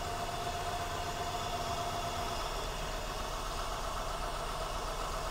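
A misfiring car engine idles roughly with a steady, uneven low rumble and faint ticking, close by and unbroken, with no voices over it.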